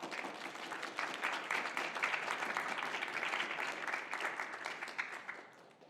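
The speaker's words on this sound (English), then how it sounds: "so please give them a round of applause." A room of attendees at a student machine learning showcase applauds the project teams, steady clapping that swells and then gradually fades near the end, fairly quiet overall.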